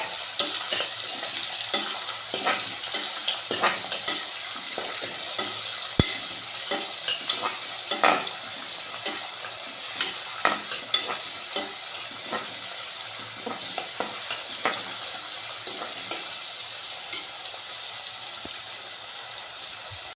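Mint for a mint pulao fries in a pan until wilted, giving a steady close sizzle broken by frequent scraping stirs of a spoon against the pan, with no talking.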